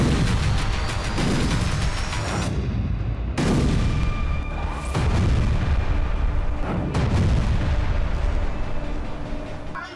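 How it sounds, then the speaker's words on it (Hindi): Heavy bombardment in Gaza, with serial explosions: repeated deep booms and rumbling blasts roll one after another, loud and continuous, with sharp cracks layered over the low thunder and no pause between them. "सीरियल ब्लास्ट हो रहे हैं।"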